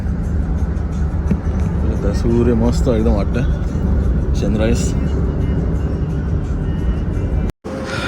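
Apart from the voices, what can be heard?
car driving on the road, heard from inside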